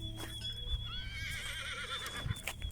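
A racing horse at a village kopkari event lets out a long, wavering whinny, with hooves clip-clopping and thudding nearby around it; the neigh rises clearly over faint background noise.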